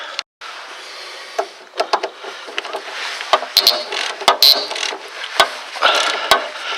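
A wrench working a tight nut on a rear sway bar link of a Ford Taurus, a series of close metallic clicks, knocks and ratcheting taps over a steady background hiss.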